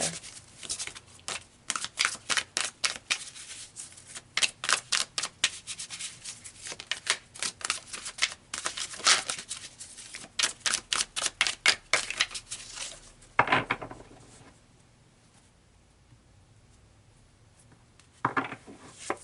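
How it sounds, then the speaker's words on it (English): Tarot cards shuffled in quick, rhythmic riffling bursts for several seconds, close and clear, followed by a quieter pause and a couple of brief rustles as cards are pulled from the deck. "So let's pull some more cards here."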